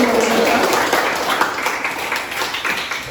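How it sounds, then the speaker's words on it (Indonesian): A classroom of students clapping for themselves, dense broadband applause filling the room throughout, with voices mixed in beneath it. "Tepuk tangan untuk diri kalian."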